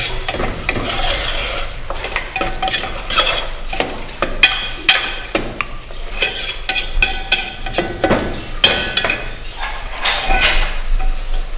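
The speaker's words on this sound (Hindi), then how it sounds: "अब हम इसमें ऑयल डाल के इसकी भुनाई करेंगे थोड़ी" Mutton browning in hot oil for kachnar gosht, stirred with a utensil that scrapes and knocks against the pot: steady sizzling and frying runs throughout, broken by frequent loud metallic clatters and scrapes.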